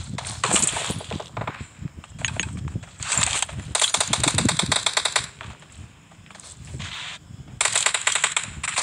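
Gunfire from PUBG Mobile crackles in repeated rapid bursts, loud and close, with short pauses between volleys in a squad battle.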